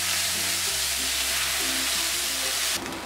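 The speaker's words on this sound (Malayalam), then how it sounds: "ഇതിലേക്ക് 1 കപ്പ് തിളച്ച വെള്ളം ഒഴിച്ചു കൊടുക്കാം." Boiling water hits hot oil tempered with fenugreek and dried red chillies for Kashmiri dum aloo, a loud steady sizzle and hiss that holds evenly before dropping off near the end.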